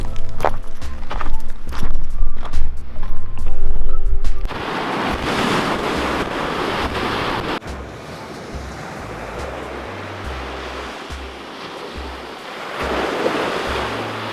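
Surf washing onto a beach with steady wind buffeting the microphone, a continuous broadband roar that is louder in the first few seconds, then settles into a rushing wash with low gusty rumbles.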